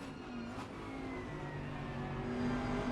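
A race car in a sim racing game at Bathurst drones steadily as the driver lifts off the throttle, the engine note sliding in pitch under a continuous whirring hum.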